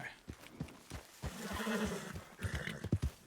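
A horse in Red Dead Redemption 2 lets out a drawn-out whinny amid rhythmic hoof clip-clops on the ground, fairly faint and with no speech.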